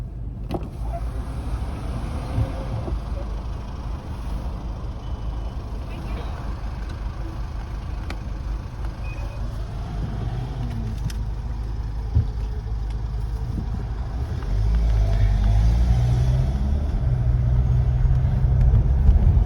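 A car travels along a motorway through a toll plaza in Ireland, with constant low road and engine rumble inside the cabin that swells louder toward the end, while a voice talks over it.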